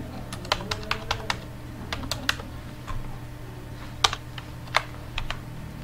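Details being entered on a computer keyboard for a Pakistan Army Technical Cadet course application, heard as irregular close key clicks over a steady low hum, with no talking.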